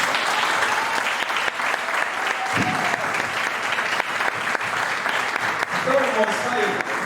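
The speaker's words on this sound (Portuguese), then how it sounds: "Vamos aplaudir Jesus Cristo." A congregation applauding during a church family service, with many hands clapping in a full, sustained roar that stays even throughout, and brief voices heard beneath it.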